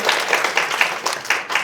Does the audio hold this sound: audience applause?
yes